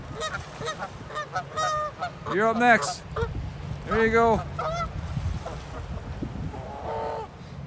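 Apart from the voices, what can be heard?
goose honking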